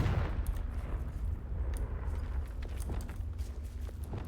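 Confringo, a fiery explosive spell cast during Hogwarts Legacy gameplay, bursts into a steady rumbling roar of crackling blasts and booms that stays loud throughout with no talking.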